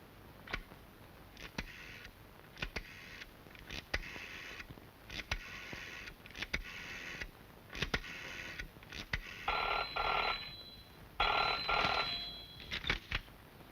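A telephone rings in repeated electronic bursts, with a busy ticking, clicking bed running underneath throughout and no voices.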